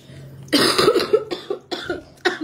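Several sharp, close coughs in quick bursts, a heavy fit at first, then shorter separate coughs with brief pauses between them.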